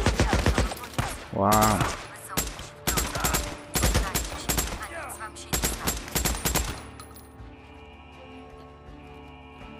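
Gunfire in the video game Days Gone, bursts of rapid loud shots and machine-gun fusillades in quick clusters, with a voice speaking briefly before the shooting fades into quieter background sound.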